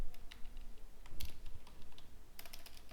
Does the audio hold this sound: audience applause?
no